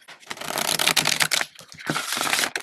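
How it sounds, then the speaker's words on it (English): A deck of rainbow-edged oracle cards is riffled and shuffled close up, bursts of crisp papery flutter and clacking in two main runs. "I'm going to shuffle here"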